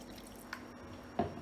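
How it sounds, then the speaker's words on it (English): Warm water goes into a Ghanaian bofrot (puff-puff) dough mixture, with a couple of faint wet drips and squishes, quiet and close, and no voices. "Then add a little bit of water."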